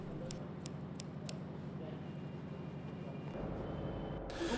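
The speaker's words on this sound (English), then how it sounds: "The edges are trimmed properly, and in certain cases a relief is even cut." A few faint, quick scissor snips trim the edges of a handmade carpet in a workshop, followed by a quiet stretch of low background noise.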